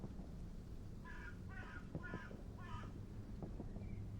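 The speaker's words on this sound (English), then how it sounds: "We'll just listen to the cawing of the birds in the background for a moment." Crows caw in the background of a PlayStation World War II battle game set at Kursk, four harsh calls in a loose rhythm over low rumbling ambience, moderately distant.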